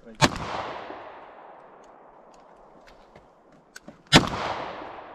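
Two sharp, loud gunshots about four seconds apart at the El Dorado County shooting range, each ringing out with a long echoing tail, plus a few faint clicks between them.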